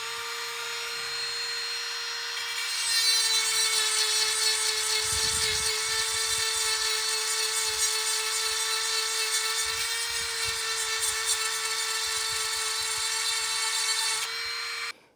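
An angle grinder running at full speed, a loud steady high-pitched whine with a constant tone that starts, holds for about eleven seconds with slight dips in pitch, then cuts off abruptly.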